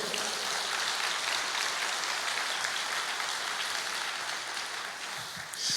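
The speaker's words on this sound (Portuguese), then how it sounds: "aplauda ao Senhor" Congregation applauding during a church service, a steady broadband wash of clapping that holds evenly throughout and eases slightly near the end, with no speech over it.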